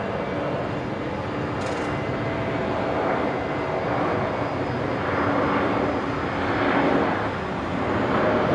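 A Qantas Link airliner taking off from Brisbane International Airport, a steady broadband jet roar that holds loud and continuous throughout with slight swells, no talk.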